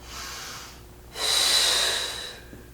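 A person breathes during a Pilates exercise: a soft breath, a short pause, then a stronger, airy exhale close by that fades out.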